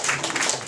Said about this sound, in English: So round and applause for those guys.